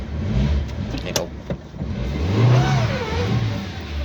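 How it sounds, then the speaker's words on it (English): A Scooby-Doo-style barn-find van's engine revs hard through a reverse burnout, with a steady roaring drone that swells and dips over several seconds, close and loud. "It does reverse burnouts."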